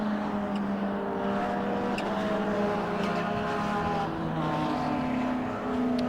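Race cars at Thruxton, a Ford Capri among them, roar past in a loud, continuous mix of engine notes with shifting pitches as back markers are passed on a circuit.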